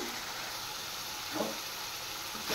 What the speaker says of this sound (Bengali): এবার মশলাটা কষিয়ে নিই